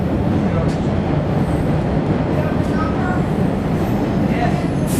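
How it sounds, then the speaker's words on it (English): A Boston subway train roars loudly and continuously, a dense rumble of rail noise with wheel and track clatter filling the whole stretch. "It is the Boston subway."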